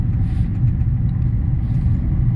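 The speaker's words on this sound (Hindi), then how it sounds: "अब तीसरा गियर डल गया" A Maruti Brezza AMT car engine runs in a steady low rumble, heard from inside the car as the automatic gearbox shifts into third gear, with no voices present.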